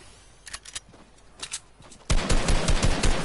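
Gunfire in the Fortnite video game: a few soft, scattered shots, then a sudden loud, sustained volley of rapid blasts that carries to the end.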